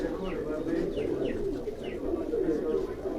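Master Abdullah pigeons cooing steadily in a loft, the soft low coos overlapping continuously with faint chirps above, a voice talking underneath.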